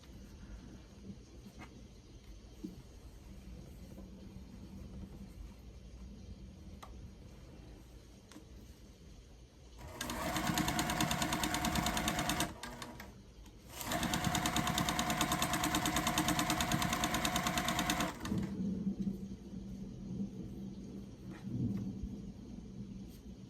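A sewing machine runs in two long loud bursts while stitching quilt block seams, a steady motor hum with a short pause between them, set against quieter room noise.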